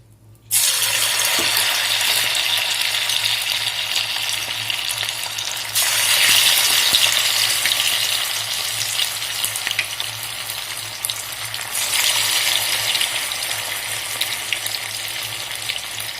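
Batter for avalakki aloo pakoda hits hot oil and bursts into a loud, continuous close sizzle that swells twice as more batter goes in, with no talking.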